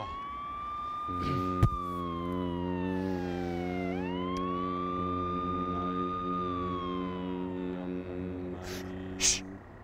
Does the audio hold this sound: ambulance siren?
yes